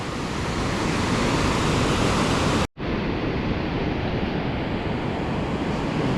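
Heavy surf from a powerful ocean swell breaking on a fishing beach, a dense continuous roar of waves and wind buffeting the microphone, loud and close, briefly cut off by a short dropout midway.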